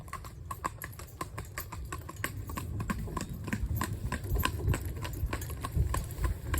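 An Icelandic pony trotting while being trained to drive, hooves striking in a quick steady clip-clop rhythm over the whole stretch, close and growing slightly louder.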